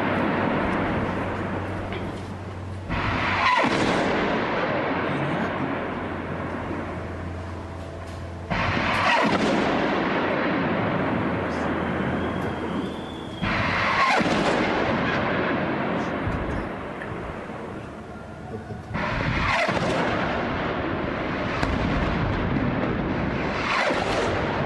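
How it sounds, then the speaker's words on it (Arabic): A rocket barrage launched from northern Gaza toward Israel, heard as a series of loud, roaring whooshes that start abruptly and sustain for several seconds each, repeating about five times at a distance. "يظهر إطلاق رشقة صاروخية جديدة من شمال قطاع غزة باتجاه إسرائيل"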